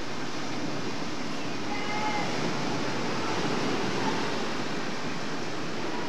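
Ocean waves washing onto a beach in Cancun, Mexico, near a break wall offshore, a steady soft surf hiss with gentle swells and no voices.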